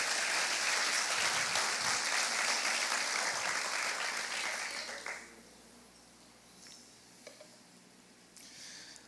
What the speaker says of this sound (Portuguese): Você pode aplaudir o nome de Jesus por esse fundamento?